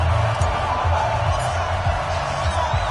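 Stadium crowd in an EA Sports NFL game before a Pittsburgh Steelers versus New England Patriots matchup, a steady roaring mass of cheering spectators, loud and constant, with a voice faintly audible underneath.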